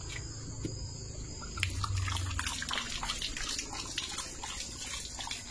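A German Shepherd laps water at close range, producing a steady stream of wet slurps and drips with no voices over it.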